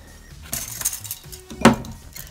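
A bowl is handled while slime-making supplies are gathered, giving a few close, bright clinks and clatters of dishware and utensils knocking together in irregular bursts.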